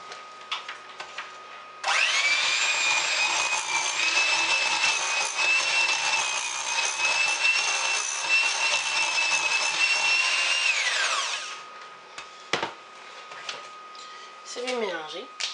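An electric mixer blends dry ingredients into cookie dough for Christmas and Valentine's biscuits, a loud steady whine starting after a short pause and running about nine seconds before winding down, with a clatter and a voice afterward.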